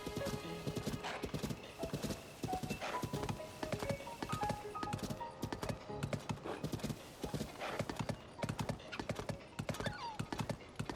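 Epona the horse clip-clops along steadily in Zelda: Tears of the Kingdom, with rhythmic hoofbeats throughout and a brief whinny, over game music.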